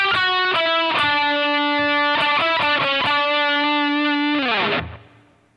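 Distorted electric guitar plays a short solo phrase of quick picked and slurred notes, then holds a sustained note that bends downward and cuts off; loud, close and solo, with no talk.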